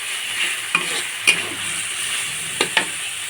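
Cumin seeds sizzle in hot oil alongside ginger and garlic, a soft steady frying hiss broken by a few sharp pops and crackles, heard close with no talking.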